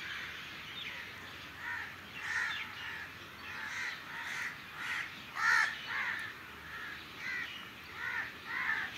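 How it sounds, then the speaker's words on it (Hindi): Crows cawing in a quiet spot within a big city, a series of loud harsh caws repeating in irregular bursts at moderate distance, with no talk. "कितना खूबसूरत नज़ारा है परिंदों का।"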